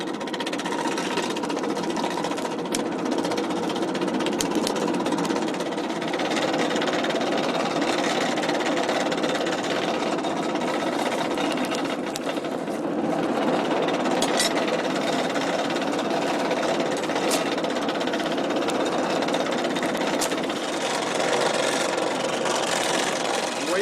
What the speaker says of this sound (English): Once I got the fuel going and it starts smoking on me like that, then I can go ahead and kick in the blower.